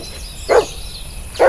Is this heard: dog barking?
yes